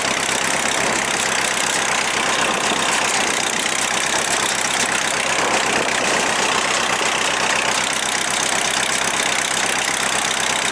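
An old Deutz tractor engine idles steadily with a continuous rumbling drone and no pauses, fairly loud and close, with no voices over it.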